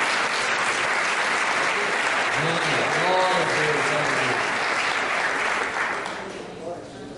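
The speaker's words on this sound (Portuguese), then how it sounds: "Vamos aplaudir o pastor." Church congregation applauding their pastor, a sustained wash of clapping filling the room with a brief sung or spoken phrase over it, fading slightly toward the end.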